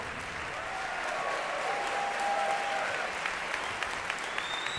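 An audience at a live jazz concert applauds for a pianist, a sustained wash of clapping from a full room that swells slightly in the middle and continues with scattered claps.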